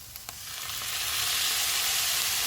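Chicken egg roll filling with onion, crushed black pepper and soy sauce sizzles steadily in a hot pan, a soft continuous frying hiss with a couple of light stirring knocks at the start.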